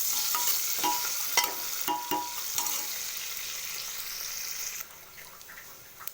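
Onions frying in hot oil for a vegetable biryani, a bright crackling sizzle with scraping stirring strokes at irregular intervals, easing slightly toward the end, no speech.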